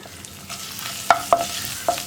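Crushed ginger and garlic sizzle in hot coconut oil, a steady soft fry broken by a few sharp clinks of a stirring utensil against the pan.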